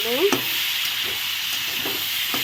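Mixed vegetables stirred in a pan after being covered, with a gentle continuous sizzle and a few scraping spatula strokes, close up and fairly quiet.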